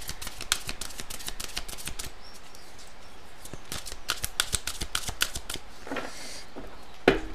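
Oracle cards being shuffled by hand: a close, crisp series of rapid riffling snaps and flutters in irregular bursts, with brief pauses between them.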